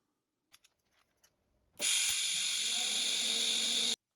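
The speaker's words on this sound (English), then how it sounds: "let's do some TIG welding" TIG welding with filler rod on a car body panel: a few faint ticks and clicks, then a loud, steady hiss that starts suddenly and runs for about two seconds before cutting off abruptly.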